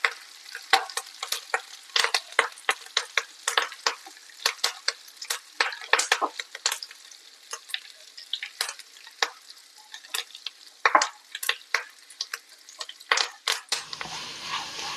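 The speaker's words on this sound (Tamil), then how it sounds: "இந்த பூண்டோடைய கலர் லைட்டா மாறணும், அது வரைக்கும் இந்த எண்ணெயிலே நல்லா வதக்கிக்கோங்க" Garlic and curry leaves fry in hot oil, with a steady crackle and many sharp, close spatters and pops scattered throughout, interrupted by occasional stirring scrapes and a brief clink near the end.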